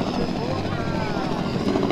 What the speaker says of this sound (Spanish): aquí tenemos un helicóptero que uno lo puede contratar